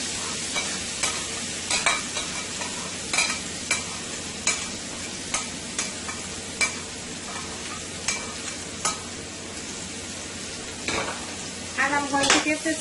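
Mixed vegetables stir-fry in hot olive oil for Guyanese-style chow mein, a steady sizzle under repeated scraping stirs of a utensil in the pan, with a few clinks and rattles near the end.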